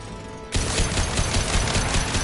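Rapid sustained gunfire in the video game Mass Effect 2, a dense burst of automatic shots that starts abruptly after a brief lead-in and holds loud and close to the end.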